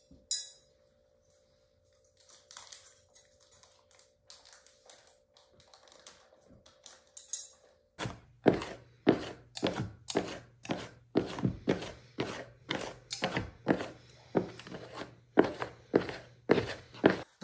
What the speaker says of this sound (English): you can add your butter and cut it in